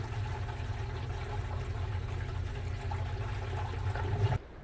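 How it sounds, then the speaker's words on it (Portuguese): Water runs steadily from an opened tap into a venturi aeration setup at an agricultural station, making a continuous rushing flow that stops abruptly near the end. "A partir de agora, nós vamos abrir a torneira, que vai criar o efeito venturi e começa a fazer a oxigenação da água."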